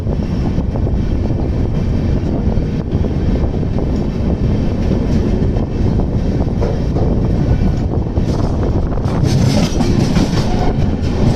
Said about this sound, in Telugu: ప్రస్తుతం అయితే ట్రైన్ నియర్లీ 3 hours డిలేలో అయితే ప్రయాణిస్తుంది